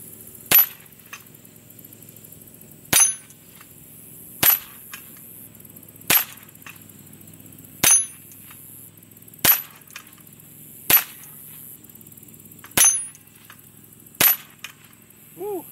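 Ten sharp gunshots fired one at a time at a bullseye target on a shooting range, evenly spaced about every second and a half, loud and close with quiet gaps between.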